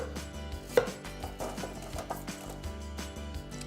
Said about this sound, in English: Some parsnip as well. Just going to cut those into nice chunks.